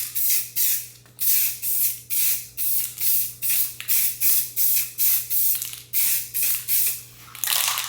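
Aerosol spray paint can sprays black paint over a piece of artwork in a rapid series of short, loud hissing bursts, about fifteen in a steady rhythm, close up with no talking.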